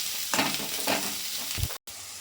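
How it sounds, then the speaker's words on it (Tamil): Onion, carrot and beans sautéing in a hot pan for noodles, a steady close sizzle with a few scraping stirs of the spoon and a brief clunk near the end. "இப்போ இதை வதங்குற வரைக்கும் நம்ம கிண்டி விட்டுக்கலாம்."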